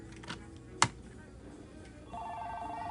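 A telephone extension on a PBX phone system rings with a steady electronic tone that starts partway through and continues to the end, following a sharp click, with quiet room noise underneath.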